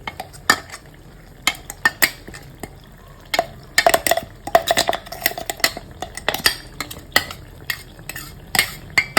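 Powdered cashews stirred into ghee in a pan, with sharp metallic clinks and scrapes of a spoon against the pan in irregular bursts over a faint sizzle.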